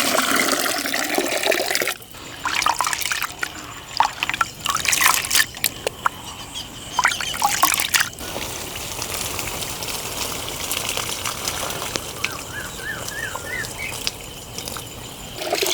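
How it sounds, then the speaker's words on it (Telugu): Sago pearls being washed by hand in water in a kitchen, with sloshing, trickling and pouring sounds, a louder rinse and drain partway through, and small drips, close and moderately loud. "ఈ విధంగా 2 సార్లు శుభ్రంగా కడుక్కొని 2 గంటల సేపు పక్కన పెట్టేసుకుందాం."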